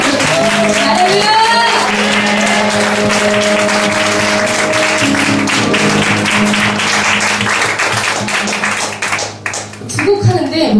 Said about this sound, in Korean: 우리 주님께 감사 박수가 마르지 않았으면 좋겠는데 감사 박수 다시 한번 주세요